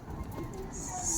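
Pet pigeons cooing softly in their coop, a low murmuring coo heard close, with a faint higher chirp near the end and some background noise.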